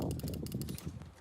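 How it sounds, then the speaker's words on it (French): Rapid computer keyboard clatter during a gaming session, a quick run of light clicking keystrokes close to the microphone, with a low hum and bits of voice underneath. "On entend le bruit de clavier."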